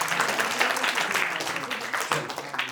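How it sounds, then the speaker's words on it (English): Audience applause at an AWS Community Day tech conference session in Vadodara, a steady wash of clapping from a seated crowd lasting a few seconds at moderate volume. "Everyone give a big round of applause for Ravi sir."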